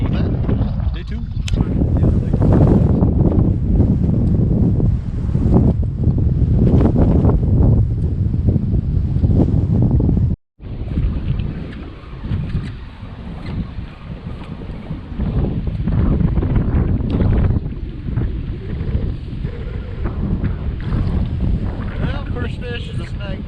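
Heavy wind buffeting the microphone on a small boat drifting on a lake while bass fishing, a loud continuous roar with gusty swells and a brief dropout near the middle.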